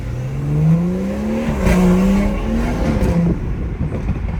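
A stage 2 BMW 340i accelerating hard at night, heard from inside: loud engine note climbing through quick gear shifts with rising pitch surges, then easing off, no talking.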